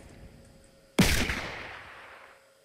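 A single sharp gunshot in Fortnite cracks out abruptly partway through, loud and close, then trails off in a decaying echo over a faint background hum.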